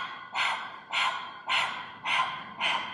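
A person doing a kundalini breathing exercise pants heavily like a dog, five loud, rhythmic breaths about half a second apart, close and breathy, imitating a dog's panting.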